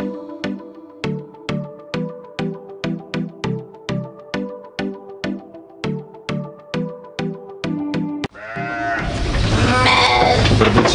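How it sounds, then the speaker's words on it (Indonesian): Sheep bleat repeatedly inside a pen on a farm, a steady series of about a dozen loud, close calls in quick succession, followed by a louder burst of overlapping bleating and rustling. "Ini kandang domba Santo Yusuf yang baru saja direnovasi."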